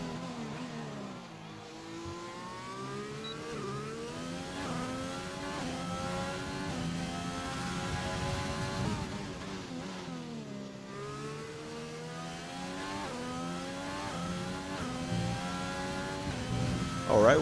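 A race car onboard on a fast lap at the Hungary round: the engine revs steadily and loudly, climbing and dropping through gear changes with a sharp dip around the middle, continuous and close.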